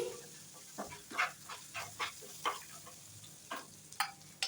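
Moong dal kachori filling with turmeric and sugar being sautéed over low heat in a pan, giving a soft steady sizzle with rhythmic scraping and stirring clicks of a spoon, fairly quiet and close.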